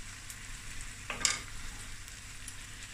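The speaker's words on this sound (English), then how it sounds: "we're going to let this just fry away" Sausage frying in a pan over medium heat, a quiet, steady background sizzle with one brief crackling spit and clink partway through, no talking.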